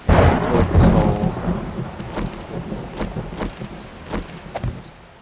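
Thunderstorm in the survival game 7 Days to Die: a loud rolling thunder rumble opens, followed by steady rain with scattered sharp drops and crackles, no talking.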